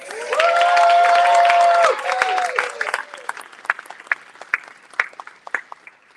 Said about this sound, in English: First time, round of applause